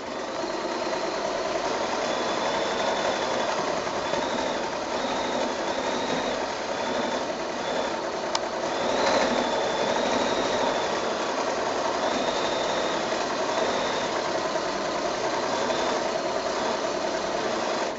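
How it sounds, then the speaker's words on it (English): A sewing machine running steadily during free-motion quilting, its motor hum continuous and fairly close, with faint higher whines rising and falling as the stitching speed changes. "I'm literally just doodling as I go with the sewing machine."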